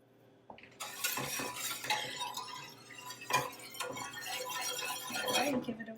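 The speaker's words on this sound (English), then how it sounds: "Just keep whisking." A whisk clinks and scrapes rhythmically against a pot of gravy heating on a stove, with steady metallic stirring and a faint sizzle. A person talks over it now and then.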